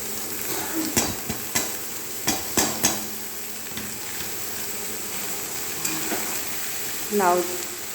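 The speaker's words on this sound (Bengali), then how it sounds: "দেখো লাউ ভাজা হচ্ছে।" Bottle gourd fries in a pan with spices, a soft sizzle underneath while a utensil scrapes and knocks against the pan in several sharp strikes, followed by quieter stirring.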